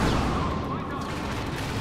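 A grenade blasts in the Star Wars Battlefront video game, a dense rumbling boom that washes into gunfire-like crackle and rolling low noise for under two seconds, loud and close.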